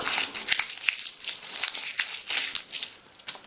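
Close-up crinkling and crumpling of a thin, brittle sheet of edible paper candy, irregular crackles rising and falling as it is scrunched in the hands.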